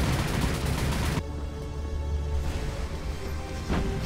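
Naval gunfire from the battleship Yamato in the War on the Sea video game: a dense, loud barrage of heavy shots rumbles at first, then drops to a lower roar with a later distant impact.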